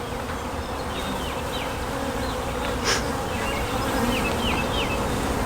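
Honey bees buzz steadily around a hive comb lifted out of the box, a dense close swarm drone with no talking.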